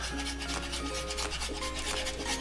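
Parmigiano Reggiano being grated by hand: a close, dry rasping scrape in quick repeated strokes, each short and gritty, with no talking.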